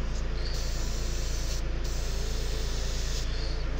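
An airbrush sprays paint onto a miniature mech figure, giving a steady, close, airy hiss with a faint rhythmic compressor pulse underneath. Brief dips in the spray break up the hiss.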